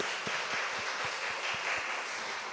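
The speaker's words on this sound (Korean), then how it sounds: "다시 한번 격려의 박수를 한번 해주시기 바랍니다" A church revival meeting audience gives encouraging applause, a dense continuous wash of clapping with some individual claps standing out in a steady rhythm, moderately distant and sustained throughout.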